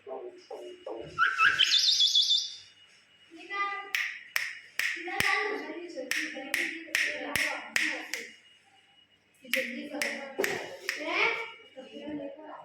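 A pet myna bird calls with a rising squawk and then a rapid run of sharp, repeated clicking chirps, heard close and fairly faint, with a few hand or mouth sounds mixed in.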